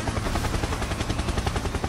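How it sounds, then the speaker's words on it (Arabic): A helicopter in Fortnite whirs steadily with a dense, rhythmic rotor chop, loud and close throughout, with no talking. "هليكوبتر هليكوبتر"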